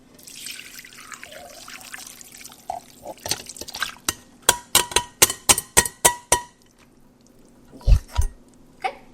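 Broth strained into a big glass: a soft pour settles into a run of about eight crisp, evenly spaced drips and splashes, followed by a couple of low thuds, close and fairly quiet.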